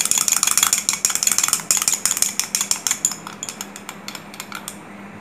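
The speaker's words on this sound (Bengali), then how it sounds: "একটা ডিম দিয়ে দিচ্ছি এটার ভিতরে, দিয়ে একটু ভালো করে মিক্স করে দিবেন" Donut dough with a freshly added egg mixed in a bowl, a rapid series of clinking utensil strikes against the bowl that gradually slow and soften, close by with no talking.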